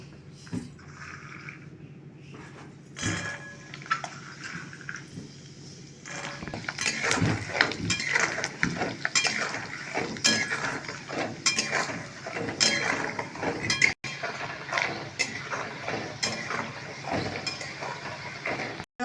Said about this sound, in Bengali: তেল আমি বসিয়ে দিয়েছি, গরম হয়ে গেছে। আমি প্রথমে বাদামগুলো ভেজে দেবো।